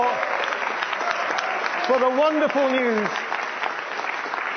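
A Liberal Democrat party audience cheers and claps in a hall, a continuous rush of crowd noise with someone speaking over it.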